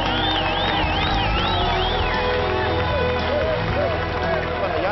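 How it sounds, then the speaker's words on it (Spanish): A live audience and the opposing team applauding the winning team at a game-show gala, a dense, continuous wash of clapping mixed with crowd babble and cheering, with music and a voice running underneath. "con el aplauso del público y también del equipo contrario"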